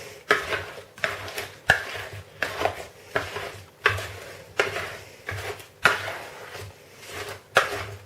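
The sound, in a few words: mixing sliced apples into cake batter in a bowl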